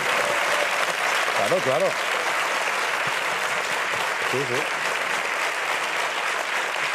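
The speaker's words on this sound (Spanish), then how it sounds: "¡Un buen aplauso!" Studio audience applause at a Spanish TV talk show, a steady full-room clapping that holds throughout, with a man's short spoken interjections heard over it.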